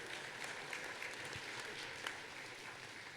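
Convention audience in a hall applauds a guest panel, a faint, dense wash of steady clapping from a distant crowd that holds evenly throughout.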